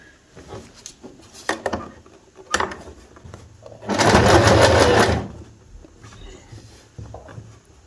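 A sewing machine stitches fabric for a handmade turban, giving one loud, close burst of continuous whirring mid-way, with scattered clicks and fabric handling before and after.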